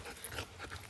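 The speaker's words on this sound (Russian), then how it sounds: "Дети тут играют с собаками местными." A dog pants steadily and fairly close, with quick breathy puffs over a bed of outdoor background noise.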